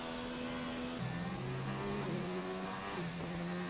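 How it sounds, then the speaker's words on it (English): A Renault Formula racing car engine in a racing video game, at a Russian Grand Prix, gives a continuous buzzing, whining drone that drops in pitch at each upshift, with a few distinct gear steps, loud and steady without talk. "Listen to that engine noise between the Ferrari engine and then that Renault engine."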